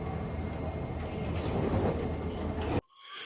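Time Traveler roller coaster train rushing along its track at Silver Dollar City, a loud broad rumbling roar that builds and then cuts off abruptly, leaving a faint quiet tail.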